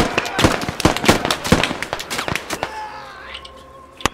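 Sharp explosive cracks from gunfire and rocket launcher blasts in the military shooter Squad, a rapid irregular barrage of loud close and mid-distance bangs, with voices talking over the combat before it thins into a quieter tail.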